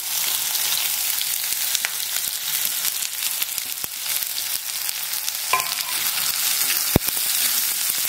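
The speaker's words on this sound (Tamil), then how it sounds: "இந்த வெங்காயம் வதங்கிறது ரொம்ப ரொம்ப முக்கியம்." Steady sizzling of onions frying in oil, with occasional clicks and a clatter as they are stirred; no voices.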